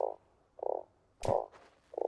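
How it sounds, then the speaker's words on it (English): A frog croaks in the Starsand desert survival video game, giving four short, loud, clear croaks spaced about half a second apart, with a faint click between two of them and no talking. "That's a frog."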